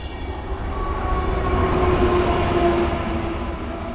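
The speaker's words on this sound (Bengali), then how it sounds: "একটি ট্রেন আসতেছে।" A double-decker train rumbles closer in snowy weather, a steady loud rolling roar with a faint whine, building then holding.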